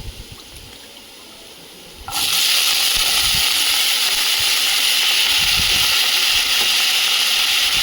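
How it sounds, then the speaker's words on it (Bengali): Chopped onions and potatoes drop into hot oil and burst into a loud, steady sizzling hiss that keeps going unbroken after a quieter start. "তেল গরম হয়ে গেলে এবার তাতে আমি পেঁয়াজ কুচি দিয়ে দেবো।"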